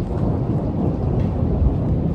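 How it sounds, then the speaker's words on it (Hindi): Steady rain pours outside after a whole night of rainfall, a dense even wash of noise with a faint low rumble beneath, no voices present. "कल पूरी रात बारिश हो रही है और अभी भी सुबह से हो रही है।"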